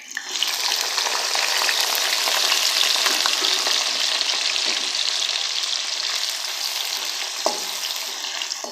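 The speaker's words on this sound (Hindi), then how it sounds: "अब मैं इसी के साथ इसमें ऐड कर दूंगी प्याज।" Onions frying in a pot with lightly roasted whole spices for chicken pulao: a loud, dense, continuous sizzle close up with crackling pops throughout and a faint stir near the end.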